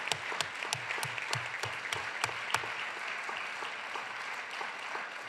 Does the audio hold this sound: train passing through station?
no